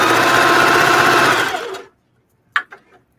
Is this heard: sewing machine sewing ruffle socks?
yes